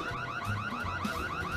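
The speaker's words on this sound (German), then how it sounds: "Ich höre den Alarm!" A car alarm wails continuously, its rising and falling siren cycling rapidly and evenly, loud and close, with no voices over it.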